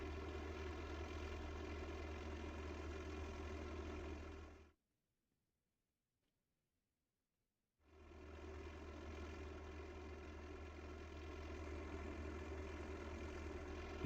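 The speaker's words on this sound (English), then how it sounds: "So we got a new Spitfire coming up." Spitfire fighter plane engine in a video game, a loud steady propeller drone that cuts out abruptly to silence for about three seconds, then resumes at full strength.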